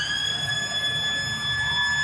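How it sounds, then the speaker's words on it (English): A long end-of-match siren at a women's rugby union Test between the Wallaroos and the Black Ferns, a steady sustained tone held over loud stadium crowd noise. "The siren has sounded."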